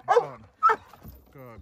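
A Chinese Red dog barks during handler-defence training: two sharp, loud barks close by, followed by a softer whine-like sound.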